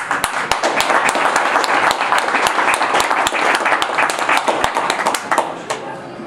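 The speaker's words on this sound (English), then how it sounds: "I just wanted you to give a round of applause to Saeed" Audience at a machine learning in trading talk in London applauding, dense sustained clapping from a sizeable crowd, loud and close, with a few sharper claps standing out and tapering slightly at the end.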